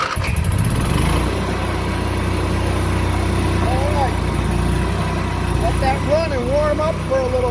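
A Cummins Onan QG 4000 RV generator runs and warms up after starting, giving a steady, close, buzzing engine drone that holds even throughout, with some talking mixed in.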